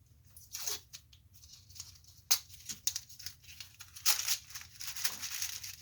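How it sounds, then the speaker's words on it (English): Tape pulled off a roll and pressed down to hold a washer in a broken lamp base weight: a few short, quiet ripping and crinkling bursts with soft taps between, close and faint. "hold it down with a little bit of tape"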